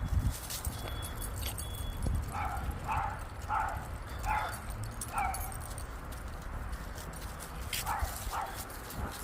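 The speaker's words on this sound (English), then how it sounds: "Their little tiny dog behind the fence was barking at us." A small dog barks from behind a fence in a residential neighborhood, a series of sharp yips in short bursts at moderate distance over outdoor background noise.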